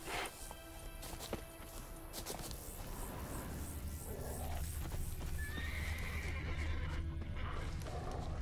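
A horse in The Witcher 3 whinnies and neighs while hooves clip-clop on the ground, fairly close, with a low ambient game drone underneath.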